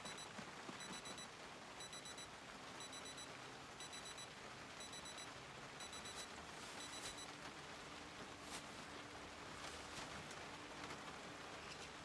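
In Project Zomboid, a watch alarm beeps in quick repeated bursts over steady rain pattering outside, the beeping faint and regular before it stops and the rain carries on alone.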